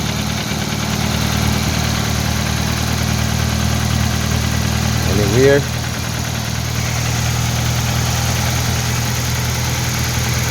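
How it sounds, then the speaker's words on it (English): A 1999 Toyota Corolla engine idles after an oil seal repair, a steady low mechanical hum with even pulsing throughout, close and loud, with a brief spoken word partway through. "start the engine and see what is going on"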